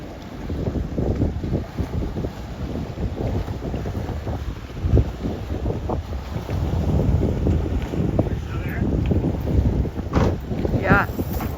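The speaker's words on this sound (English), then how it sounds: "let's enjoy the sounds of foaming" Fish foaming and feeding at the surface close to a beach in Southern California, a churning, splashing wash over steady wind buffeting and water noise, with a few brief splashy bursts near the end.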